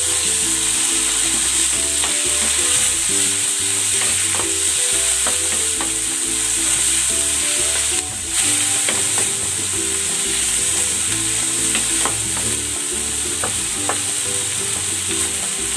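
Tomatoes stirred in a hot frying pan, giving a steady loud sizzle with the scrape and knock of stirring repeating throughout, and no one speaking.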